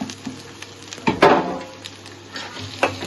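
Hot oil in a small wok on low gas for spicy egg curry, with a brief sizzle and a few scraping stirs and clinks of a utensil against the pan, no voices.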